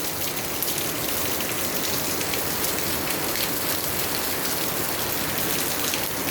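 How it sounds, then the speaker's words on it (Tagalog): Morning rain falls steadily on surfaces, a dense, even hiss of drops that holds constant throughout without any voices. "Ang aga ng ulan."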